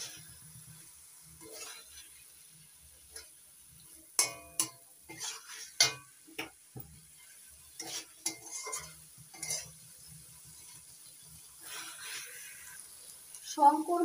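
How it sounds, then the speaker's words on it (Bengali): Fried shankar fish (stingray) pieces being stir-fried in spice masala in a pan, with a spatula clinking and scraping in irregular close strokes over a faint sizzle. "ভেজে নেওয়া শঙ্কর মাছগুলো দিয়ে একটু কষিয়ে নিচ্ছি"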